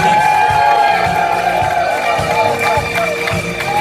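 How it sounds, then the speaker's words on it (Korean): Crowd noise at a Korean club's regular gathering, with cheering and scattered clapping swelling under a host's amplified voice as guests are welcomed onstage; the hall stays loud and busy throughout. "박수 보내십시오."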